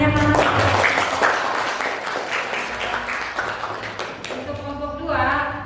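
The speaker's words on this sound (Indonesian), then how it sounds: "Tepuk tangannya mana?" A class of students claps together in a classroom, making a dense, steady patter that lasts several seconds before thinning out near the end.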